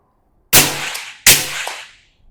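Two suppressed rifle shots firing PMC X-Tac 55 grain ammunition ring out outdoors at a berm, each a sharp loud crack with a decaying tail, about three-quarters of a second apart.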